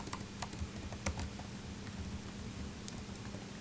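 Typing on a computer keyboard during PHP programming work, scattered quiet key clicks over a steady low background hum, fairly faint and continuous throughout.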